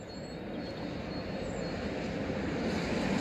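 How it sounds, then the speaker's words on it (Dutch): Dutch NS train passing, a steady broad rumble of wheels and wagons that slowly grows louder, with faint high squealing, heard alone. "Precies de trein die we al hadden."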